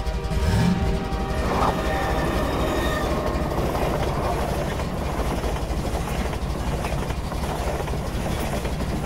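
A train passing in the video game Half-Life 2, a loud steady rumble of rolling wagons with squealing wheels and clattering rails that stays strong throughout.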